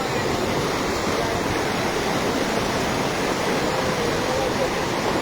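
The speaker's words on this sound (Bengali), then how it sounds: "প্রিয় দর্শক দেখতেছেন কি পরিমাণ পানি নিষ্কার হচ্ছে" Floodwater pours out through three opened sluice gates in a loud, steady roar of rushing water that holds constant throughout.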